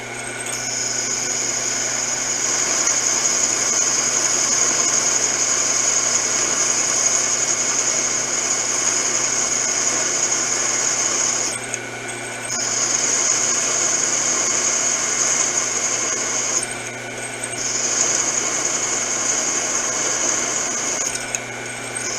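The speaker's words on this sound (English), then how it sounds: "I'm just drilling, gonna drill the holes and tap them." A power drill bores holes for T-nuts, a loud steady high whine running in three long passes with short pauses between them, close up and with no talk.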